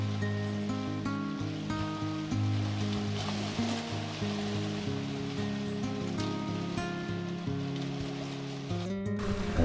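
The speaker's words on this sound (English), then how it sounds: "We got caught in a downpour and we're running from tree to tree." Heavy rain pours down steadily in a quiet state park on Madeline Island near clear water, a dense continuous wash of drops on leaves and surfaces, fairly soft and unbroken throughout.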